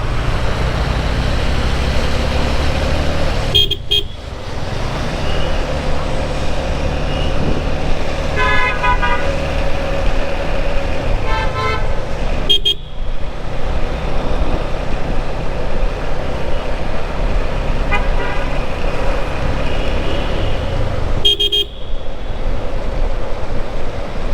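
Traffic on a Dhaka street in Banani rumbles steadily, with cars passing close and a few short horn toots scattered through it, no one speaking.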